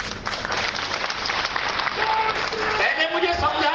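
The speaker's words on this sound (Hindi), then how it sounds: "तालियां थोड़ी कम बजी।" An audience claps through the whole stretch at the UDAN Utsav civil aviation event in Jharsuguda, a fairly steady crowd applause with some voices mixed in.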